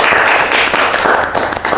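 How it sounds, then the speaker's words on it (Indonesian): An audience at a plastic surgery seminar gives a short burst of dense, close applause, many hands clapping together loudly from start to finish. "Kita tepuk tangan dulu ya."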